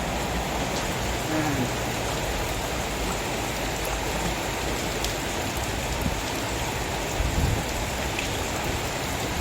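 Steady rain pours down evenly, a dense hiss of drops on surfaces filling the whole stretch, with no voices.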